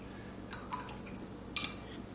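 A paintbrush is rinsed in a water jar, giving a few brief splashes and light clinks against the glass, followed by a louder swish near the end, close and otherwise quiet.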